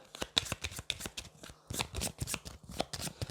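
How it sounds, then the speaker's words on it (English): A deck of cards being shuffled by hand during a tabletop card game, a run of crisp riffling bursts with brief pauses between them, close and clear. "There's shuffle action going on. I like to do it 7 times."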